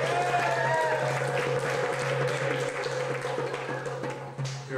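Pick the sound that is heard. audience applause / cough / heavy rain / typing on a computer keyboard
audience applause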